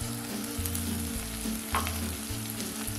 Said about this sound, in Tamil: ஒரு 2 நிமிஷத்துக்கு வந்து காயெல்லாம் எண்ணெயில் வதக்கி விடலாம்